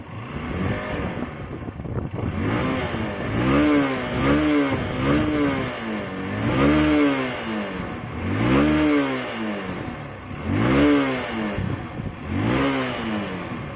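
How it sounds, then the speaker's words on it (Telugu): A second-hand motorcycle engine accelerates while being ridden, rising and falling in repeated revving sweeps, loud and close, with no talk over it. "యాక్సలరేషన్ ఇచ్చినప్పుడు ఇంజన్ సౌండ్ అయితే మాత్రం చాలా రిఫైన్డ్గా వినిపించింది"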